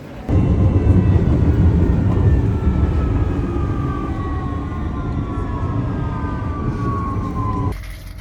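A loud, continuous rumble of a moving train interior fills the space on a ride back from London, with faint tonal whines drifting downward over the steady roar.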